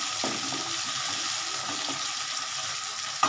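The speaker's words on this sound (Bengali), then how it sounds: "এবার আমি একটু নাড়বো" Okra masala fries softly in a pan while being stirred, a faint steady sizzle with light scraping and a small clack at the end.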